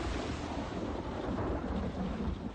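Thunder from a nearby storm rolls as a steady, loud, low rumble mixed with rain-like hiss, going on without a break and with no voices.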